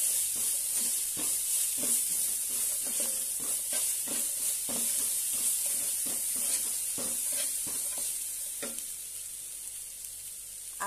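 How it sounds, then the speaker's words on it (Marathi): Grated raw mango with salt and a pinch of turmeric sizzles steadily in a pan, with a constant frying hiss and repeated scraping strokes of a spatula stirring throughout, close and fairly loud. "छानपैकी परतून घेऊया।"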